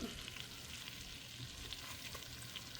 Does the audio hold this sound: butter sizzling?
yes